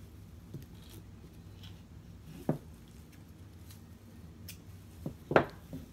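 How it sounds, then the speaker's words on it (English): Scissors snipping through a cord for a boho dream catcher craft: two crisp, close cuts a few seconds apart, the second sharper and louder, over a quiet background. "snip the cord from the other end"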